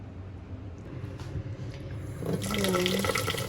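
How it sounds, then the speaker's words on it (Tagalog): Tap water runs into a bowl while rice is washed in a home kitchen, a soft steady flow that swells louder and splashier near the end, with faint talk early on. "Maghugas tayo ng bigas."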